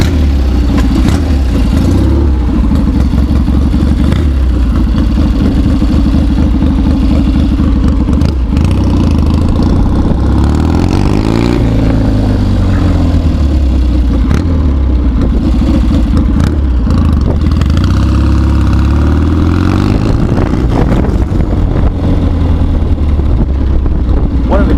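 Steady, loud engine drone from a ridden 1967 Triumph Bonneville bobber, continuous throughout with shifting pitch as the bike accelerates and eases off, plus wind rumble.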